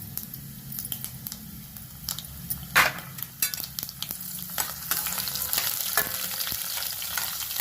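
Cashews, urad dal, dried red chillies, green chillies and curry leaves fry in oil in a pan, with a steady close sizzle broken by spoon stirs and scrapes.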